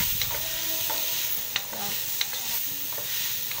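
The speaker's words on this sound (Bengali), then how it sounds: "আমি যে ম্যাগি রাইস মিক্স মশলা এটা দিয়ে দিচ্ছি" Fried rice with Maggi rice mix masala sizzles steadily in a hot pan while a utensil stirs it, with occasional sharp scrapes and taps over the constant frying hiss.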